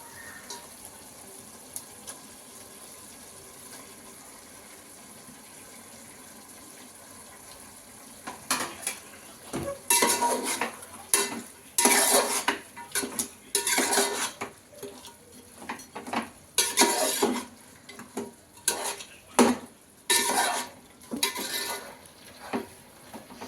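Washed chicken being stirred in a pot for fried-piece chicken biryani: after a quiet start, irregular clattering scrapes and clinks of a spoon against metal, close and fairly loud, with no voices.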